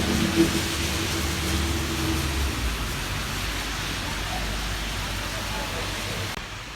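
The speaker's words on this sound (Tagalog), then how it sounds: "yun yung ulan dito sa Doha, pinakita ko lang sa inyo" Autumn rain falling in Doha, Qatar, a steady broadband hiss that holds at an even level throughout, with a faint low hum underneath and no voices.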